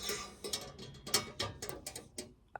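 Irregular metallic clicks and scrapes come up close as an Allen wrench tightens Keps nuts on a Vex V5 robotics build, each tick short and crisp against a quiet background.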